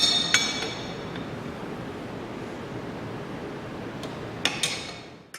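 A hook wrench tightens a metal coupling on a plaster pump, giving a few light metallic clinks at the start and again near the end, with a quiet hiss in between.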